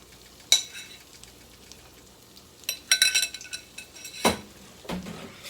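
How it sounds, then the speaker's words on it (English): Hot water cornbread patties fry in a pan with a soft, steady sizzle. Sharp clinks and scrapes of a utensil against the pan break in several times, close by. "you're going to let that fry for a few minutes over on the side and let it get brown"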